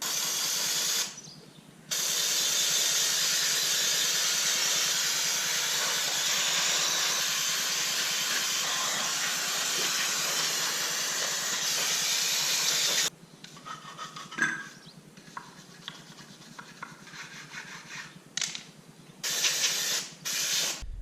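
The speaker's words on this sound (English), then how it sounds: "I'm gonna take the brake cleaner, clean all this up real good" An aerosol can of brake cleaner sprays onto a power steering pump in a long, loud, continuous hiss lasting about eleven seconds, followed by several short, sharp bursts.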